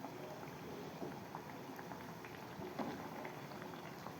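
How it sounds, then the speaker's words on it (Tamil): Banana flower vada deep-frying in hot oil, giving a steady, soft, dense sizzle with small crackles throughout, heard up close and alone. "எண்ணெயும் அடங்க ஆரம்பிக்குது அந்த சலசலப்பெல்லாம் நிற்கிது பாருங்க"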